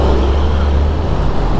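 Big trucks rolling along a straight highway in the Subang–Indramayu stretch of West Java, giving a close, continuous low rumble of heavy engines and road noise with no voices.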